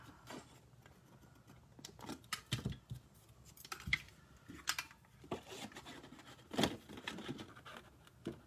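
Scissors snip through paper in short irregular bursts, several quick cuts and rustles at close range in a quiet room.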